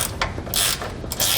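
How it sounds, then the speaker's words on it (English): A 9/16 ratchet socket wrench tightens bracket hardware for air helper springs on a 2013 Ford, producing rapid, close clicking strokes in three quick bursts, with no voices. "9/16 socket wrench. We'll tighten our hardware down"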